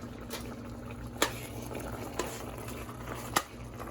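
Ground meat for lasagna cooks in a pan with a faint, steady sizzle and bubbling, plus a few sharp clicks from utensils scattered through.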